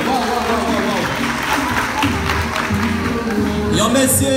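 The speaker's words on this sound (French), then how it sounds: "Applaudissez, s'il vous plaît." At a cosmetology school event, a crowd's applause rolls on at a steady level beneath a voice over amplified music.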